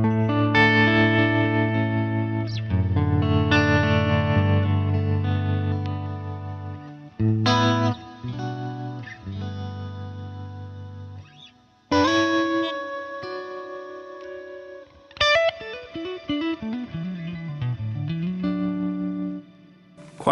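An electric guitar plays a clean tone through Matchless DC30 and Fender Twin amp models on a Line 6 Helix, with ringing chords and single notes separated by short pauses and a bending phrase near the end.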